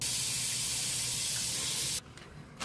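Corn and broth poured into a pressure cooker: a steady splashing, hissing pour runs for about two seconds, then stops abruptly, leaving a few small drips and clinks.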